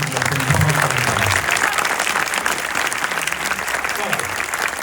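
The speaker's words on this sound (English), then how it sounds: "Vous pouvez applaudir ce jury qui va faire un travail." Audience at a Paris film premiere applauding the jury, a dense, steady clapping from a large crowd that fills the space, with some voices mixed in under the applause.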